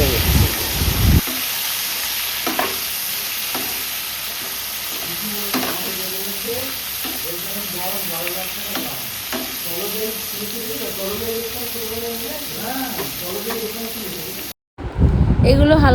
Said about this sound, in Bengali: সেই পুরো পেঁয়াজটা এখন আমি এর মধ্যে অ্যাড করে দিচ্ছি। দিয়ে ওই সেমভাবে হালকা করে একটু ভাজছি